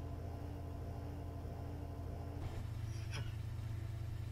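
An Audi car engine in a video game rumbles steadily at a low pitch, then shifts partway through as it revs briefly and settles into a throatier idle, heard alone.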